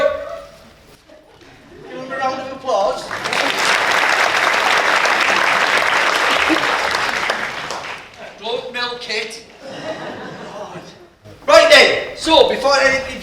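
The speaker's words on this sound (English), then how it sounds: "Give him a round of applause." An audience at a magic show bursts into loud, sustained applause lasting several seconds, bracketed by a performer talking before and after, with scattered cheers as it fades.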